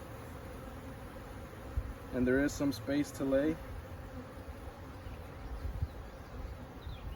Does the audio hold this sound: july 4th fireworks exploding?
no